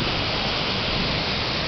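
A waterfall in front of a castle on Montjuïc in Barcelona gives off a steady, dense, loud rush of falling water that stays constant throughout, with no voices.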